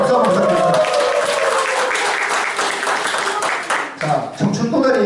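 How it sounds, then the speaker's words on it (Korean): An audience at a Korean lecture event in a Gumi café gallery breaks into sustained clapping, heard loud and close, with a speaker's voice talking over it throughout. "박수 한번 부탁드립니다."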